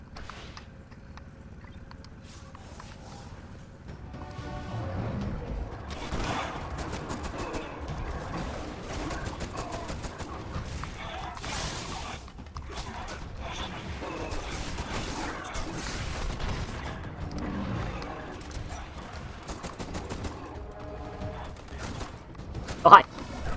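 A minigun in Destiny fires in long, rapid rattling volleys amid busy game clatter and mechanical creaks, steady at mid volume with a sharp bang at the end.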